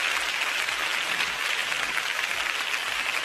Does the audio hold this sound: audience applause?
yes